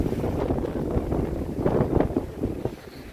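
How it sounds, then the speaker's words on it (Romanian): Strong wind at the seashore buffets the microphone in a continuous low rumbling roar with gusty surges, and no talk is heard. "Astăzi bate vântul puternic aici la malul mării."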